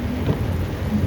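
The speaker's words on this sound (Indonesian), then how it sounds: "hujannya kayak gini lah bro" Heavy rain pours in a dense, continuous wash over a deep rolling rumble of thunder along a road near Takengon, loud and unbroken with no voices.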